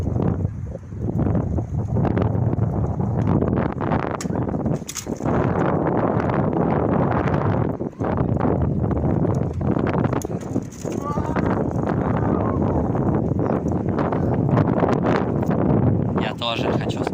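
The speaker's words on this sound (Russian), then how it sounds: "Охуенный ветер." Strong wind roars and buffets the microphone continuously outdoors on sandy ground, a loud, rumbling rush that hardly lets up, with voices briefly heard under it.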